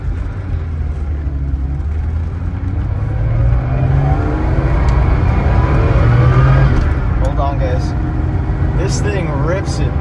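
A 1977 Porsche 930 engine revs hard, a loud, dense roar with its pitch rising and falling and a sharper climb near the end, while a voice talks over it.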